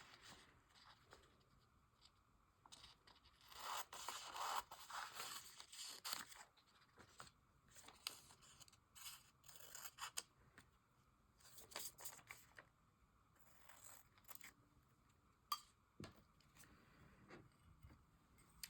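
Scissors cutting a water-soluble transfer sheet for polymer clay work, giving faint, close snipping and crisp rustling sounds scattered through a quiet stretch.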